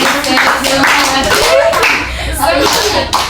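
A group claps in a rhythmic spirit-clap routine, with bursts of sharp claps in counted sets mixed with voices chanting along.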